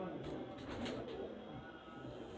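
Pigeons cooing softly in a loft of fancy breed birds, low throaty calls under steady background noise and nearby talk.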